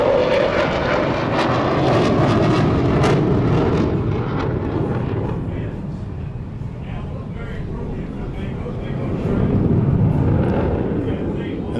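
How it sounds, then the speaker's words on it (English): F-16 fighter jet at an air and sea show flying a tight high-G turn with full afterburner, a loud roaring rumble that fades and swells again, with a voice talking over it. "And that F-16 there is demonstrating the close, tight radius of our full afterburner, full high-G, loud jets"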